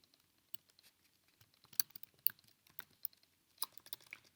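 Typing on a computer keyboard: faint, irregular key taps and clicks, sparse at first and then quicker in small bursts, heard alone in a quiet room.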